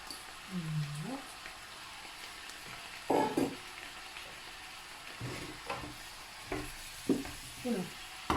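Courgettes cook in a pan with a soft background sizzle, broken by a few clattering stirs and clunks against the pan, and a brief voice partly covers it.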